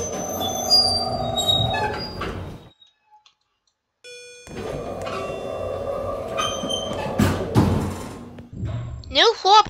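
A train rumbles and squeals through a train level of an elevator video game, with a brief dropout partway through and some sharp chirping sounds at the end.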